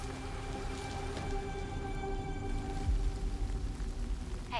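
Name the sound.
rain in a Resident Evil Requiem trailer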